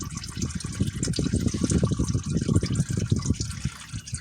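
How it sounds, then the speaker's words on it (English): Used engine oil from a truck pours into an oil drain pan in a thick, gurgling stream, loud and close, with a continuous glugging rhythm across the few seconds. "Now I'm gonna dump the excess oil into my oil pan."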